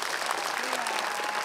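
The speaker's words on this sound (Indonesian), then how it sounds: "Oke, tepuk tangan dong buat" A studio audience applauds in a dense, even patter of many hands, sustained and moderately loud throughout.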